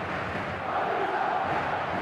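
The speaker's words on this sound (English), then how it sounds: "The match. stadium is full of noise and energy" Stadium crowd roar in the football game eFootball 2026, a steady, dense wash of massed voices and cheering held at an even level with a distant, far-off quality and no distinct individual sounds.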